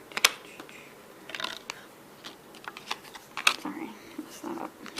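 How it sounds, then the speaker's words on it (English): Trading cards from a Star Trek Tribble series are dealt and sorted by hand, with a string of sharp close snaps and flicks at irregular intervals and some quiet talk in between. "dealing cards."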